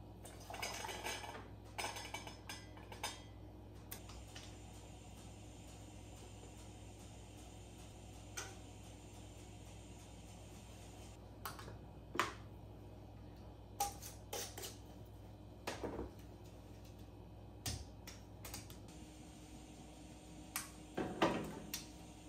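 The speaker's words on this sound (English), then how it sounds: "now I'm just gonna put this into the canner and keep on canning up beans" Glass jars of home-canned beans set into a pressure canner, giving scattered light clinks and knocks of glass against metal over a low steady hum, no talking.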